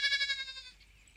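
One sheep gives a single close, wavering bleat that trails off within about a second, heard by itself with no talking.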